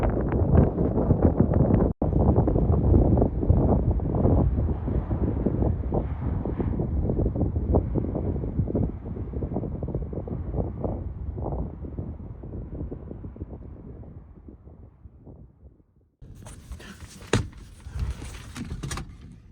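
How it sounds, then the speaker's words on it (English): Strong wind buffets the microphone outdoors at Slab City in the desert, a loud continuous rumbling roar with gusts that gradually ease, drop out briefly and then return. "it's like pretty dang windy out"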